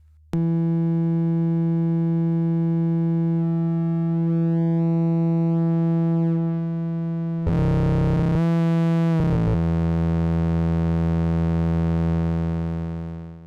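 A synth slope generator switched into cycle mode produces a loud sustained tone with many steady harmonics, which bursts into a denser, more complex waveform for about two seconds before settling back into a steady drone.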